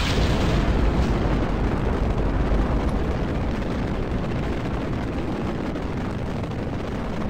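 Rocket launch in Kerbal Space Program: a steady, loud, broadband roar of engine thrust rumbling continuously throughout, with no talking over it.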